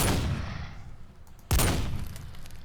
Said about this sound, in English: Yes, dude, 2 shots with the sniper.